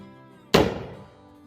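A single sharp, loud report from a Merrill carbine percussion cap firing with some blowback, a sudden crack that decays over about half a second in open woods, with no talk.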